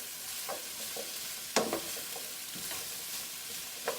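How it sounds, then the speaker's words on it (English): Brussels sprouts and mixed vegetables being stirred in a frying pan, with a soft steady sizzle under scattered scraping clinks of the utensil, one sharper knock near the middle and another toward the end. "Now I'm going to add Brussels sprouts, and I'm going to give a good stir."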